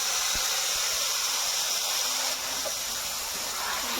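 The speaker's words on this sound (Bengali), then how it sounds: "এবার অনেক করা মাংসটা ওর মধ্যে ঢেলে দেবো।" Chicken meat hits very hot oil with whole cumin for dhaniya chicken, giving a loud, steady hissing sizzle that holds close and constant throughout, with no speech.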